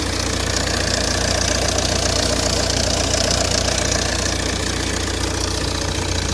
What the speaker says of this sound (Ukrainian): пасик шумить на генератора, дуже-дуже його чути.